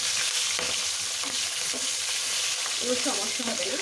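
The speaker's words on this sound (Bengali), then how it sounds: "মাছ ভাজার এক সাইডে কাঁচা লঙ্কাগুলো একটু ভেজে নেব" Green chillies sizzle in hot oil beside frying hilsa fish in a pan, a steady close crackling hiss, with a brief voice speaking near the end.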